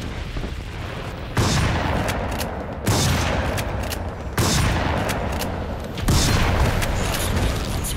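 Heavy gunfire in Crysis 3 Remastered, loud sustained bursts of shooting that start and stop abruptly four or five times, each burst a dense roar of rapid shots.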